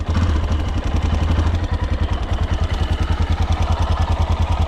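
A motorcycle engine idles loudly close by after a wiring repair, a fast, even, pulsing thump with a slight clatter, steady throughout with no talking.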